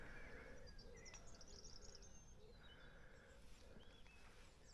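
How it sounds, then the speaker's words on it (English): Evening birdsong around a campsite on a cycle tour, several birds chirping and trilling at a moderate distance over a soft, steady outdoor background hiss. "Just hear all the bird song."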